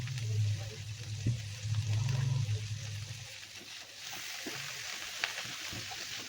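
Crushed garlic dropped into hot oil for a drumstick curry, giving a steady frying sizzle close by, loudest in the first few seconds and then settling into a softer hiss with a few light clinks.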